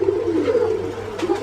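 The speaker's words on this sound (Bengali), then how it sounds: "ফুল ভাইব্রেশন কবুতর" A large black Lahori pigeon coos in a low, throaty, vibrating phrase close up, followed by a brief second call, over a faint steady hum.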